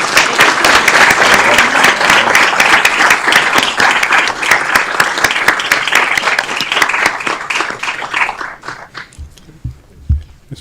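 Loud, full applause rises from the audience at a city council meeting, a thick wash of clapping that carries on for about eight seconds, then tapers off with a few last scattered claps and low room noise.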